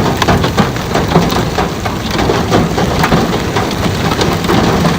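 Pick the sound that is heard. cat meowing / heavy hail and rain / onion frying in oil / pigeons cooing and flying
heavy hail and rain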